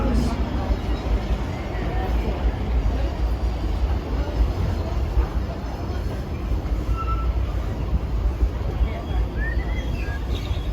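A mine train roller coaster rumbles steadily along its track with a constant low roar and faint metallic squeals throughout.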